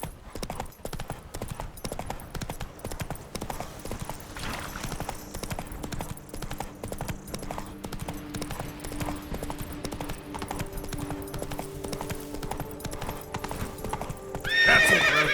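Roach, the horse in The Witcher 3: Wild Hunt, gallops in a quick rhythmic clip-clop of hooves that runs throughout. A neigh breaks out near the end over faint game ambience.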